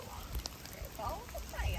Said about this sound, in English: I guess it's hail.